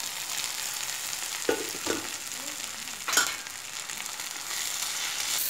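Tomatoes sauté in hot oil in a pan for poori masala, with a steady close sizzle and a few stirring scrapes and knocks of a spoon against the pan.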